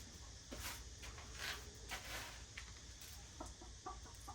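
Chickens clucking in short, irregular bursts at moderate distance, with soft farmyard background noise and no talking.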